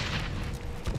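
Gunfire in the shooter game Blacklight Retribution: a dense, loud wash of booming shots and rumble, continuous across the short moment with no clear gaps between blasts.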